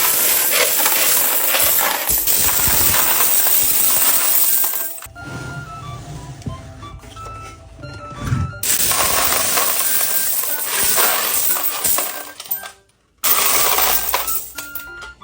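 Twenty-peso and other peso coins drop into a basin of coins, loud rattling clinks in bursts with quieter gaps between pours.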